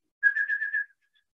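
Human voice imitating the whistled call of a whimbrel: a quick run of about five or six clear, even whistled notes in one short burst, close and alone.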